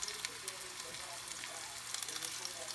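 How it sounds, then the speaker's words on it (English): Beef pot roast searing in a Dutch oven gives a steady, close, hissing sizzle that crackles continuously and at even loudness throughout, with no clear talk over it. "That's what you want to hear. You want to hear that sear."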